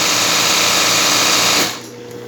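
A sewing machine runs fast and loud at close range, stitching a zigzag seam on a richelieu cutwork tablecloth, a continuous whirring drive that stops abruptly near the end, leaving a quiet hum.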